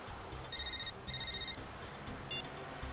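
Two bursts of an electronic telephone ring in a quiet indoor police-drama scene, then a brief fainter chirp, with no voices over it.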